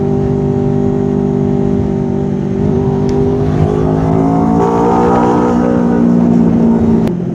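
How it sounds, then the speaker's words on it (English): Heavy haulage lorries leaving the docks rumble past continuously, engines droning and shifting pitch as they pass close by, loud and steady with no talking. "these are the trucks that are leaving the docks"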